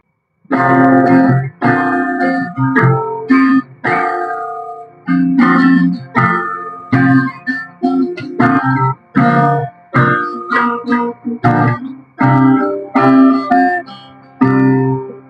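Unamplified acoustic guitar with no pickup strummed in short, bright bursts of chords with brief gaps between phrases, close and fairly loud, no voices.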